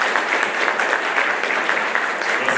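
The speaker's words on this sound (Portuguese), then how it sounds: "salva de palmas." A round-table audience at a spiritist book discussion breaks into sustained applause, dense and close with even intensity throughout.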